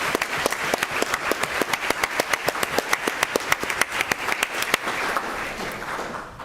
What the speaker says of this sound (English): Let's give Manny another round of applause.